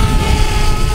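A DJI Spark drone lifts off and climbs, its propellers producing a loud, steady close-range whirring buzz with no speech.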